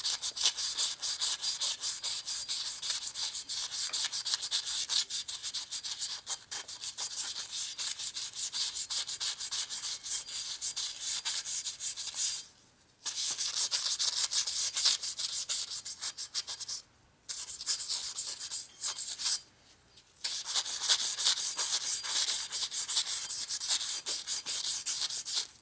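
Hand sanding of a metal clutch basket pulley for an 8mm 62-tooth Primo four-speed belt drive, using fine 180 to 220 grit sandpaper: a steady, close, rapid back-and-forth rasping scrub that stops briefly several times, with no voices.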